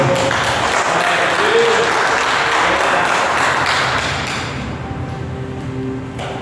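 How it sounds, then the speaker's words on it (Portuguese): A church congregation applauds loudly and steadily for several seconds in a dense burst of clapping, which eases slightly toward the end. "Você pode aplaudir o Senhor bem forte?"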